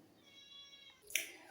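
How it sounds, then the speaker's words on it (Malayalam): Several cats crying outside a house while fish is being cleaned and cut, giving a few faint, drawn-out meows at a distance, followed by a brief sharper cry near the end. "നമ്മളിവിടെ കുറേ പൂച്ചകളുണ്ട്. അവരെല്ലാം പുറത്തു നിന്ന് കരയുകയാണ്."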